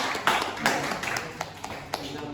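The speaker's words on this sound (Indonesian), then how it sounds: "Silakan tepuk tangan dulu pada kelompok 1." A classroom group gives brief, scattered applause for a student group after its presentation, a few sharp claps that thin out quickly, with faint voices under it.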